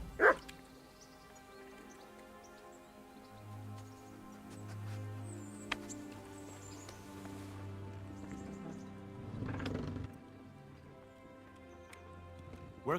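Savage hounds belonging to an executioner in a video game bark and yelp in a few sharp bursts at the start and end, with a louder flurry near the middle over low droning game music.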